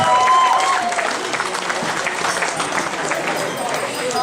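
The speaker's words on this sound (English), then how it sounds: "How about a big round of applause?" Wedding guests applaud the couple during a best man's toast, a steady wash of clapping with cheering voices mixed in, fairly loud and sustained throughout.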